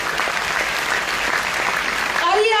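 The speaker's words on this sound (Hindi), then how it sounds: "एक जोरदार ताली होना चाहिए सभी लोग के लिए।" Loud, sustained clapping from a seminar audience, a thick even roar of many hands throughout, with a speaker's voice starting up over it just before the end.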